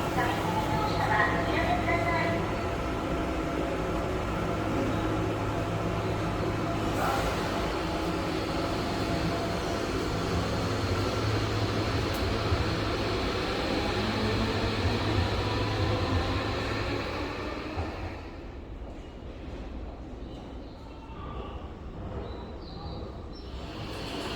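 A Tokyo Metro Hibiya Line train stands at the Ginza Station platform, where platform screen doors have been installed, with a steady hum and rumble that fades near the end as the train departs, and voices heard across the platform.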